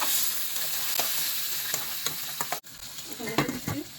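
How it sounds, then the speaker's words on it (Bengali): Onion, spices and tomato fry in hot oil in a pan, giving a steady sizzle broken by scraping stirs and a brief pause before the frying resumes. "পেঁয়াজ ভাজা হয়ে গেছে, মশলা দিয়ে দিচ্ছি।"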